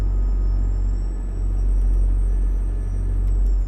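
A truck engine in American Truck Simulator, a loud, steady low rumble with a thin high whine, holding almost constant with only a slight dip partway through.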